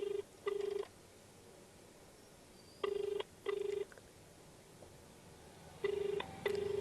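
An outgoing call to a Delhi hospital rings unanswered, with three evenly spaced double-ring pulses of ringback tone separated by long gaps over faint line hiss.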